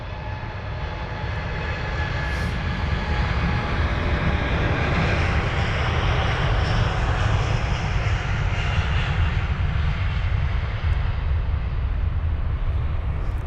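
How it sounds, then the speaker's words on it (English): A British Airways Boeing 787-10 Dreamliner departing London Heathrow, its jet engines producing a loud, steady roar that builds and holds across the clip, heard from a distance outdoors with no talk. "there's the 787 up next to depart. That would be the 10 Dreamliner off to Riyadh,"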